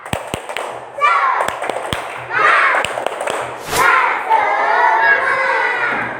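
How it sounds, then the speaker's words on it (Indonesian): A class of children performs the tepuk semangat clapping chant, with sharp claps and taps punctuating loud group chanting voices. "yuk kita sama-sama tepuk semangat ya"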